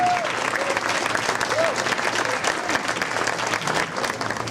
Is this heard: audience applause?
yes